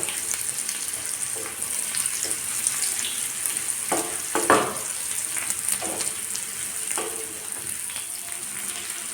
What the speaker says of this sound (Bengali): এবার গ্যাসের ফ্লেমটা হাই রেখে আমি ভালোভাবে পেঁয়াজ কলি আলুগুলোকে ভেজে নেব।